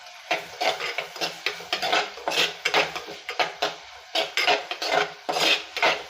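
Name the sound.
sautéing tomatoes for village-style fish curry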